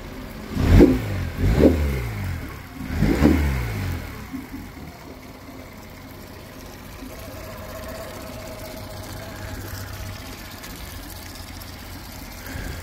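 A 2020 Yamaha 9.9 hp short-shaft four-stroke outboard revs in three loud bursts near the start, then settles into a steady low idle, close by with no talk.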